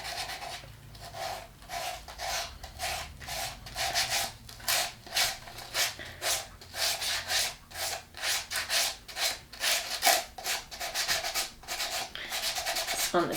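Steady back-and-forth rubbing scuffs paint on the red sole of a Louboutin shoe, close and loud, with a regular rasping rhythm of strokes that keeps going without pause.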